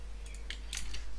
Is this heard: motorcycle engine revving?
no